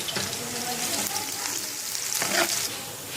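Onion frying in oil in a home kitchen, cooked until golden for Sialkoti beef paya: a steady, close hiss of sizzling runs throughout, with a brief louder burst of bubbling near the end and no talking.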